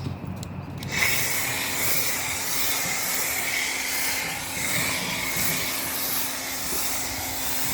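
A steady, loud hiss of snow foam being sprayed onto a car starts abruptly after a second and continues evenly, with faint background rumble.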